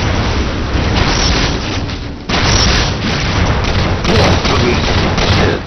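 Incinerator cannon fire in Halo 4 on the Exile map brings loud, rolling explosive booms and rapid gunfire-like bursts, a dense continuous barrage with repeated surges of impact noise.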